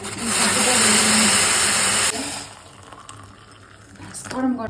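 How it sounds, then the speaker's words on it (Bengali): Water boiling to make coffee, a loud, close, rushing hiss that holds for about two seconds, cuts sharply to a low murmur, then swells back up at the end. "জল ফুটে গেছে"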